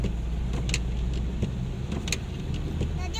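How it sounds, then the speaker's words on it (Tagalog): Steady low road rumble of a car interior with a truck following close behind, a continuous engine and tire drone with brief higher whooshes passing over it. "Truck pa yung nasa likod natin."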